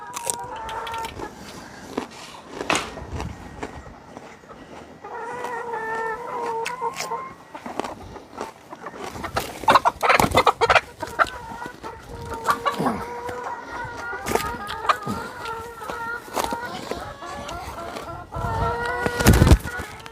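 Backyard chickens clucking and squawking in a garden, repeated close calls in uneven bursts with scattered louder squawks, over a light outdoor background.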